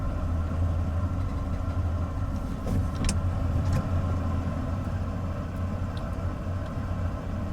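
Engine of an old Bullnose Ford truck running steadily with a low idle rumble as it is put in reverse, continuous and close, with no talking.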